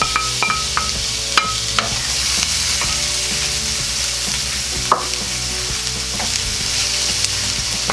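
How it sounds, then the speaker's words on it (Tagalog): Garlic and onion sauté in a hot pan for corned beef hash. A steady, close sizzle runs throughout, with scattered clinks and scrapes of a spoon stirring, and no one speaks. "Isusunod ko na po itong sibuyas sa paggigisa."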